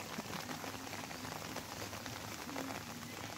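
Steady rain falls outdoors on vegetation where grass is being cut, a dense continuous patter of drops filling the scene at moderate level with no talk.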